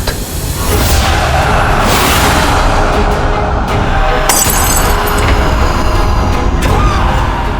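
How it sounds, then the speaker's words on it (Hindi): A light bulb bursts in a domestic scene, a loud sharp shattering crack with glassy breaking over a dense, constant background din that stays heavy throughout, with several abrupt bright impacts standing out. "ये तो बल्ब फटने की आवाज है,"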